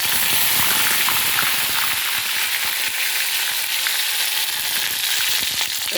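Corn kernels fry in hot oil in a kadai, a loud, steady, dense sizzle with crackling spatter that holds evenly from start to finish.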